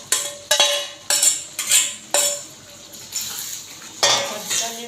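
Fried chicken is stirred with spices in a pan, a spoon clanking and scraping against the metal in a series of close, loud strokes over a soft sizzle.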